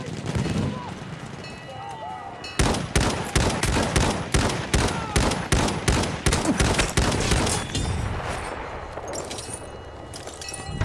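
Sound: enemy machine gun firing in Battlefield 1 video game

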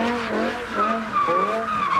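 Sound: BMW car drifting in a power slide, tires skidding

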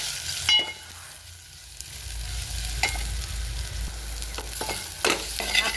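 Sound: spices frying and being stirred in a pan

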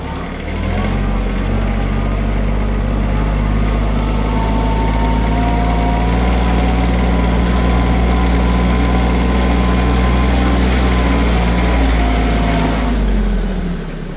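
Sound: walk-behind tractor engine plowing in second gear

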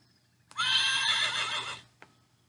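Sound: horse neighing

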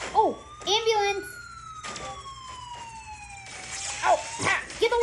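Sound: ambulance siren in the video game Crash of Cars

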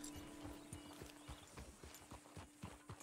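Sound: horse hooves clip-clopping in Red Dead Redemption 2 video game

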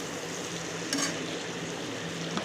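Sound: stirring vegetables in a cooking pan

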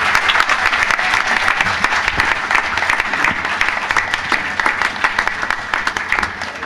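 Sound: audience applause for musicians at bhajan festival

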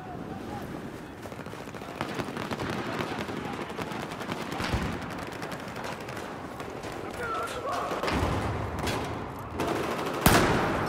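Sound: gunfire in video game Battlefield 4

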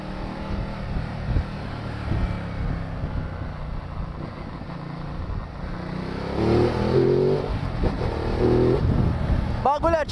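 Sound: Ducati 1200 motorcycle engine revving on test ride

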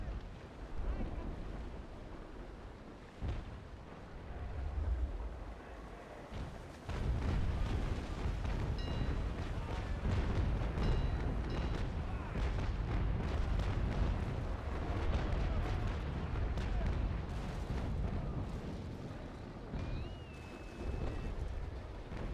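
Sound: naval ship guns firing in video game Naval Action

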